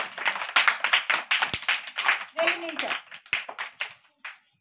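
Young children at an anganwadi clap in a run of sharp, uneven claps that come and go, with a voice briefly speaking among them.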